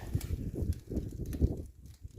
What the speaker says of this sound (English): You hear it cracking again?